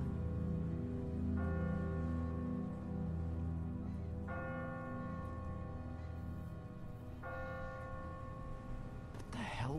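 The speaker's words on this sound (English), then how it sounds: "Ask not for whom the bell tolls." A church bell tolls in a tower in a zombie survival video game, three long ringing strikes spaced a few seconds apart, each tone hanging and fading over a dense low ambient bed with faint voices.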